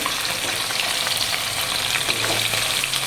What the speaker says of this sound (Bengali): এই যে বন্ধুরা, মাছগুলো ভাজছি